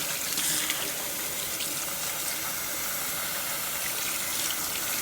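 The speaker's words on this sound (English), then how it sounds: "so that I'm draining and rinsing all at the same time" Tap water runs steadily into a kitchen sink while something is drained and rinsed, a constant close hiss and splash with no pauses.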